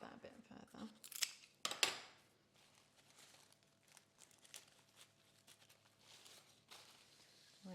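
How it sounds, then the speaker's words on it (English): Scissors snipping autumn wreath material, a few sharp close cuts and crinkles early on, followed by quieter rustling and handling noises at low level. "Just going to cut that a bit further."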